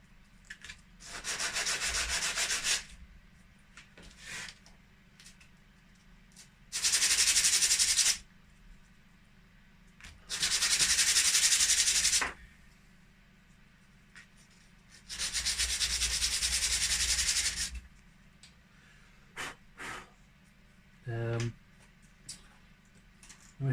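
Sandpaper rubs along the edges of G scale Kippo Models plastic roof tiles in four close, steady bursts of scratchy sanding with quiet gaps between them.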